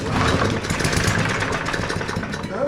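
A Briggs and Stratton 400e engine on a Bolens push mower turns over loudly and sputters close by, churning steadily and almost catching without fully starting.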